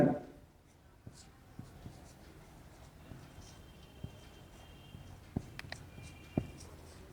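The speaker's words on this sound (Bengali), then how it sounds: "আমি লিখে দিচ্ছি এখানে" A teacher writes on a classroom board, producing faint, scattered taps and short strokes spread across several seconds, quiet and close, with a low room background.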